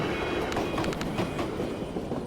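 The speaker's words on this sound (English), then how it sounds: "Militia supply train, southbound." A southbound militia supply train rumbles past in the video game Tactical Breach Wizards, giving a steady, dense roar of rolling wheels with rhythmic clacks throughout.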